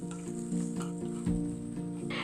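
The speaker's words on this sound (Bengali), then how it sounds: "মিডিয়াম ফ্লেমে সর্ষেটাকে কয়েক সেকেন্ড ভেজে নেবার পরে" Mustard paste frying in a pan over a medium flame, a steady soft sizzle with a low hum running underneath, close and continuous with no talk.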